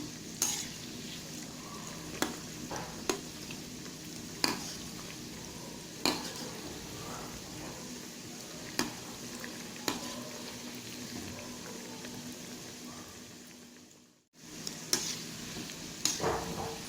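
Onion bonda made from gram flour batter fry in hot oil, a continuous soft sizzle broken by occasional scraping clicks of a ladle as they are turned, with no talking.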